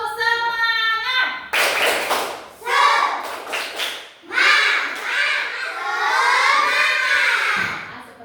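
Schoolchildren in a classroom perform a rhythmic clap-and-chant routine led by a teacher, bursts of claps interleaved with loud group chanting and a voice calling out.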